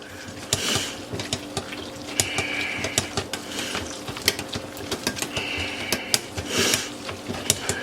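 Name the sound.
hand food mill milling fresh tomatoes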